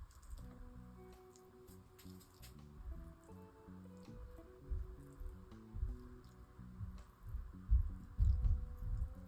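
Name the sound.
acrylic paint pouring and dripping from pendulum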